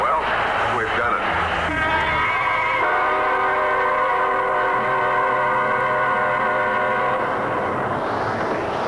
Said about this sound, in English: Gee, I can't wait till that Bob Time train comes around the bend.